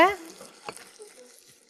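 Ginger frying in oil in a pan, crackling and sizzling softly, with a brief clatter near the start and a low steady hiss throughout.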